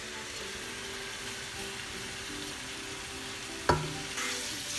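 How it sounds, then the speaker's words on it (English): Marinated chicken with roasted curry powder, chili powder and salt frying in a pan, a low, fairly quiet sizzle with a sharp clink of a utensil near the end. "we're going to fry this together for about 5 minutes"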